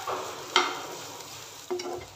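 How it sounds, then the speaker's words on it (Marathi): A spoon stirs egg bhurji frying in oil in a pan, with two sharp scrapes over a soft, continuous sizzle close at hand. "परत व्यवस्थित एकदा मिक्स करायचं"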